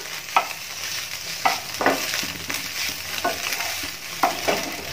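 Chopped pieces for a green peas egg masala being sautéed in a pan, with a steady frying sizzle broken by several sharp stirring scrapes spaced through the clip, close and moderately loud with no talking.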